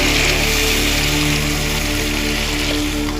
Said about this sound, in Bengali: এবার আমি একটু দিয়ে দেবো জল।